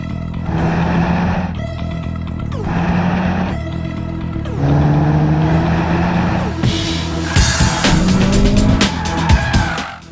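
A 2017 Honda Civic Type R on the Lausitzring circuit, its engine loud and close, rising in repeated pitch sweeps through gear changes, with a brief tire squeal in the second half.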